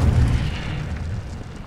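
A fiery Incendio spell blast in Hogwarts Legacy, a heavy booming whoosh that hits loud at once and rumbles off over under two seconds.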